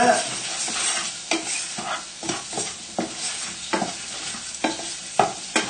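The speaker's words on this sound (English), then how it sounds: "Just give your mushrooms a little stir." Mushrooms frying in a pan while being stirred, a low sizzle broken by repeated sharp scrapes and knocks of a utensil against the pan at an irregular pace, close and clear with no voices.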